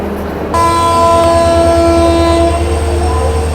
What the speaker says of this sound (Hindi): सामने आज की है Ajmer Amritsar express MD locomotive के साथ